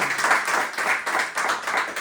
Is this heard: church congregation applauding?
yes